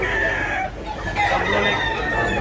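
Japanese bulstag gamecock chickens crow and cluck close by in a steady, busy run of calls, with faint background noise and no talk.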